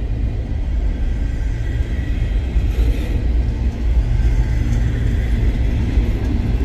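A freight train with a rock hauler and coal cars passes close by, producing a continuous heavy low rumble and rolling wagon noise that stays loud and steady throughout.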